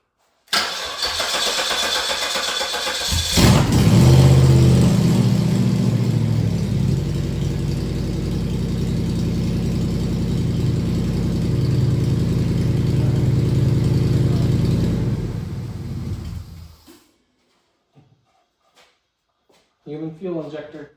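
A Cadillac Northstar 4.6 engine running outside the car cranks briefly, then catches and roars loudly, revving and holding a rough, high idle for about twelve seconds before shutting off, followed by quiet and brief talking.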